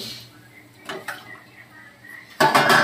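Eggs stir-fried with spice masala in a pan: quiet, scattered scraping and light clinks, then a loud burst of sizzling and stirring near the end.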